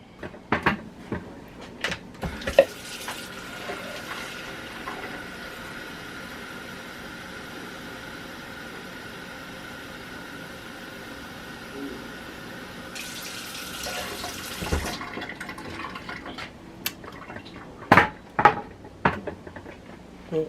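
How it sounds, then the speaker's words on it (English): Water runs steadily from a tap into the bottom of a 2.5-quart triple slow cooker, a long even hiss framed by clicks and knocks of handling before and after. "I'll put water in the bottom of mine before I put the paper in."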